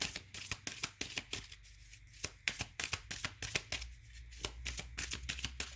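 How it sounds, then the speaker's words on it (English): A deck of angel cards is shuffled close up in a quiet room, a quick series of crisp riffling flutters and soft taps, with no voices. "here we go. Getting an angel card."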